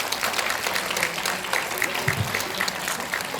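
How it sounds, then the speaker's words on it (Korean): Audience applause at a science forum event held in a cinema, a steady wash of many hands clapping for a few seconds, fairly close and even in level. "두 분께 큰 박수 부탁드리겠습니다"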